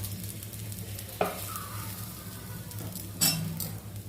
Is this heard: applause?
no